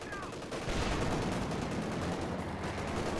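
An MG34 machine gun in a World War II strategy video game fires a sustained rattling burst, close and loud, with a brief quieter moment before the firing takes over.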